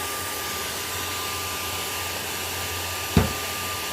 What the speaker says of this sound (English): That's the air hose.